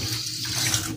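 Water streams steadily from a kitchen tap fitted with a water purifier filter cartridge, a close, continuous splashing rush with no voices.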